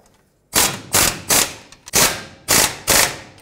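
A hand ratchet tightens bolts on the oxidation catalyst hangers of a 2008-2010 Ford F-450 Super Duty, giving six loud, close, sharp ratcheting bursts in a steady rhythm.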